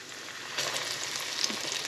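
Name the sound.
cornmeal-coated green tomato frying in a hot pan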